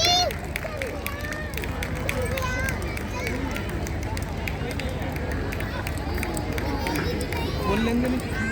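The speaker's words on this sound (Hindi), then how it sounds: "स्वागत करते हैं अपने सहपाठियों का एक जोरदार तालियों के साथ" A school annual-function audience applauds students with loud, dense, sustained clapping that keeps a steady level throughout, mixed with crowd hubbub.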